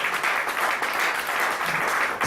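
A congregation at a church service claps continuously, a full, even burst of applause held at steady loudness from start to finish.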